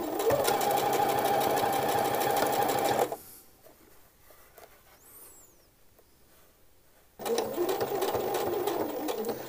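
A sewing machine runs stitches along the edge of fabric for a McCall's 6972 men's shirt in two loud, steady, fast-whirring bursts, separated by a few seconds of quiet handling.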